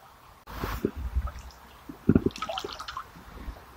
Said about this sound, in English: Feet in water.